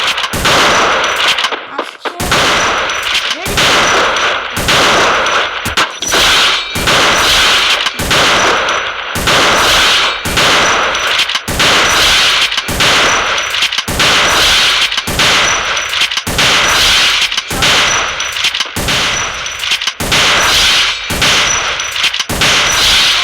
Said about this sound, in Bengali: অন্য বন্দুকটা যেন কি ওয়ান শুটার শটগান।